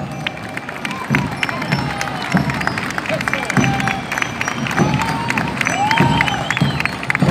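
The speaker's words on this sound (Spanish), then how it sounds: "Vamos a recibirlo como se lo merece, con un fuerte aplauso." At a street parade for Guayaquil's July festivities, a crowd cheers and claps for a passing alumni marching band, with a busy outdoor roar, scattered shouts and voices mixed throughout.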